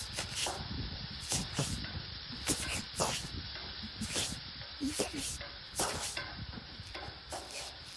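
Onion, green chili, garlic, curry leaves and ginger fry together in hot oil, a steady close hiss broken by spatula stirring and scraping, with a voice talking over it.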